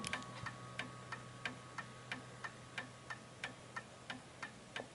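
An antique Enfield Westminster chimes clock from James Walker Ltd ticks close by in a quiet room, with crisp, evenly spaced ticks in a steady rhythm and no talking.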